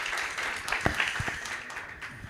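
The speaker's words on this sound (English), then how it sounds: "I would like to request all of you to clap for Dr." Applause from the audience after a haematology session at a medical summit: moderately quiet, diffuse clapping from a seated crowd that gently fades over about two seconds.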